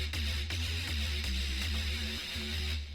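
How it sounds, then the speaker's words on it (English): Bottoms Down Port synth bass from Heavyocity Evolve Mutations 2, a deep, sustained low-end drone with gritty upper texture, pulsing slightly in a steady rhythm, loud and continuous with no voices. "There is a instrument, a synth, that's called Bottoms Down Port that sounds like this."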